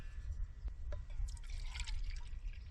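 Water is poured to fill backpacking kettles beside a titanium hibachi wood grill outdoors, giving a short trickling, dripping fill with splashy bursts over low background rumble.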